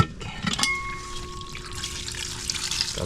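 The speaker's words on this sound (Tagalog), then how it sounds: "Tapos lagyan natin ng tubig." Water poured a little at a time into a cooking mixture, a soft trickling splash over a low background hiss with a faint tonal ring, close and fairly quiet throughout.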